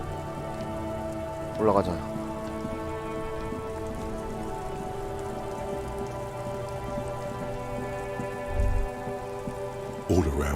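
Steady rain falling in the video game Disco Elysium, an even, close hiss of drops on surfaces that runs throughout, with a brief spoken line and a few soft thuds over it.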